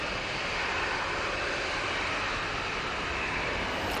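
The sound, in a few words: KLM airliner landing at Manchester Airport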